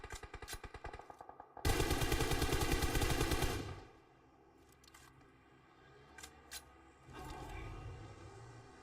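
In an esports video game match, a rapid burst of automatic gunfire rattles, then a sustained loud stream of shots, followed by scattered single shots and another burst, fairly close and without talk.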